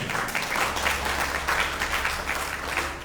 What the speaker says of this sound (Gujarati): હવે તાળી પાડજો